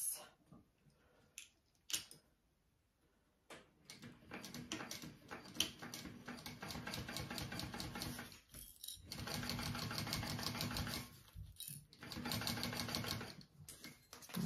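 A sewing machine stitches a seam on a small fold-and-zip backpack. It runs in steady, fairly close mechanical bursts, with short pauses between runs and no talk over it.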